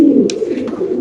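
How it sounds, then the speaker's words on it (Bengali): Indonesian pigeons coo close by, a loud, low, continuous throaty murmur with a brief rustle or flutter partway through. "দেখেন দর্শক মাশাআল্লাহ খুবই সুন্দর অ্যাক্টিভ কবুতর।"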